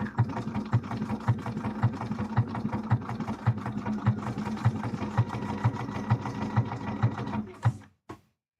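A sewing machine runs steadily at close range during a cosplay costume build, its needle thumping in a fast even rhythm for several seconds before stopping abruptly.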